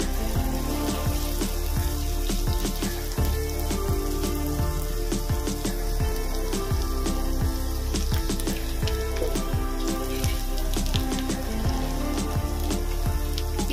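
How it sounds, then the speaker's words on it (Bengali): Chopped onions fry in a pan for a chicken malai curry, giving a steady, close sizzle with crackling pops throughout and no talking. "পেঁয়াজটা ভালো করে ভেজে নেব।"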